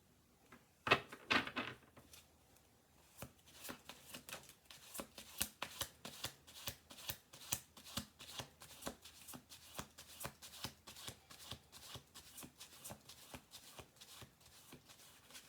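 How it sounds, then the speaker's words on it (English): Tarot cards shuffled by hand, a loud riffle burst early on, then a long steady run of crisp, rapid card flicks and taps, close and alone with no talking. "We're going to do two more shuffles."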